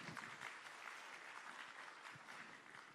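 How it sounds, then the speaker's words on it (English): An audience at the Asian Pacific Postal Union Congress applauds, a steady wash of many hands clapping evenly throughout, very faint and distant. "Can I have a big round of applause,"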